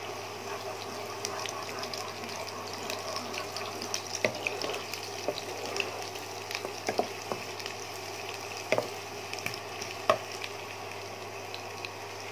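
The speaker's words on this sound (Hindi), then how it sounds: "आप देख सकते हैं हमारे जो प्याज हैं वो तकरीबन ब्राउन होना स्टार्ट हो गए हैं।" Onions frying in a pan on a medium flame, cooking down toward brown for a masala lobia and potato dish: a steady soft sizzle with occasional crackles and small pops, moderately close and continuous, no voices.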